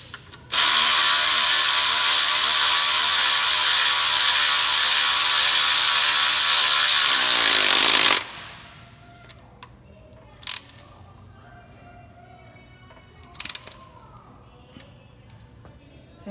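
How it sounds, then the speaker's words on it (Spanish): A ratchet with a 13 mm socket tightens a bolt on a Ford Fiesta mount, a loud, fast continuous clicking run for about eight seconds, followed by quiet and a couple of sharp isolated clicks. "Vamos a apretar el tornillo."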